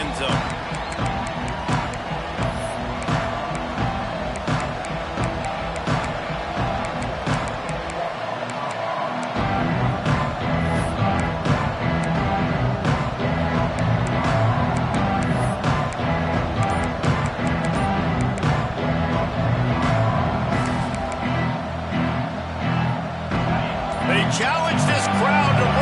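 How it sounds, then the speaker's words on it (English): A football stadium crowd at a Tennessee game roars and cheers steadily after the opening kickoff, a loud, dense wall of voices that swells further partway through and holds, with announcer-style talk layered over it. "Challenge this crowd to bring the energy, and I'd say they're doing that."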